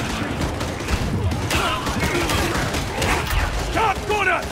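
Gunfire from a gunner in the video game Darktide, rapid bursts of shots rattling over dense combat noise and mechanical clatter, loud and busy with no clear pause.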